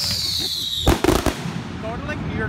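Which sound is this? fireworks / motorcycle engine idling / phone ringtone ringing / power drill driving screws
fireworks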